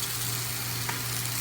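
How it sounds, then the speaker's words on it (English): Eggplant sizzles steadily in a hot pan, a constant crackling hiss with a low hum underneath and no talking. "first I'm going to saute this until it's fully cooked"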